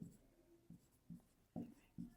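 Pen strokes of numbers written by hand on paper, several short scratchy bursts spaced about half a second apart, close and fairly quiet.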